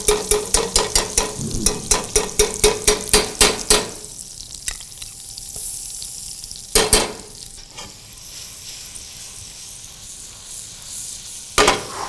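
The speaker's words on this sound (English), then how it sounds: "My butter is getting nice and brown," Garlic sizzles in browning butter for mac and cheese, a steady low frying hiss under a quick rhythmic run of knife or spoon taps at first, then a couple of louder clacks.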